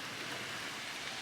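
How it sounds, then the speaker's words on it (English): Rain falls steadily as a dense, even hiss of drops on surfaces outdoors, continuous and moderately close with no voices. "I came back home and it's raining"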